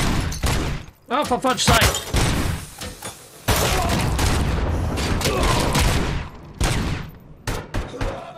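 Loud bursts of rapid gunfire and explosions roar from the shooter game Robocop Rogue City, with repeated volleys and thuds while someone shouts briefly over the action.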